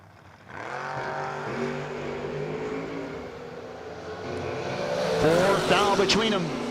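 No-Box 660 drag race cars, Weenie against the Marshall Racing Dart, with engines droning steadily and rising to a louder roaring pass near the end, under a race announcer's voice throughout.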